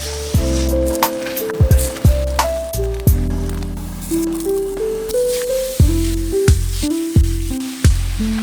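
Loud, steady sizzle and hiss of a pad see ew stir fry cooking in a hot pan, close up, with repeated louder bursts as the food is tossed or stirred.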